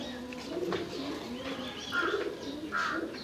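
Young round-winged pigeons in a loft coo softly, with a couple of brief louder coos and chirps standing out against steady background bird noise.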